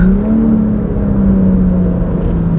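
BMW X3 M40i with a CSZ exhaust accelerating hard in Sport Plus mode, a loud, steady close-up engine drone that rises slightly in pitch and then settles, continuous throughout with no talking.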